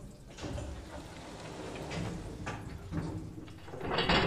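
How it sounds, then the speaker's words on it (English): In the Umineko When They Cry video game, a heavy door slides shut and locks automatically, heard as a dragging rumble with a couple of thuds and a louder clunk near the end, fairly close. "Got the big door locking. It's pretty freaking loud."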